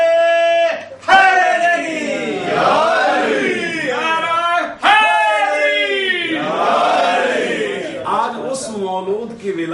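A crowd at a religious Urdu poetry gathering chants slogans loudly in two long surging waves, many voices rising together in rhythmic call-and-response, close and powerful with brief pauses between bursts.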